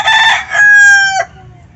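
A single loud rooster crow rings out close by, long and drawn-out, with faint clucking around it.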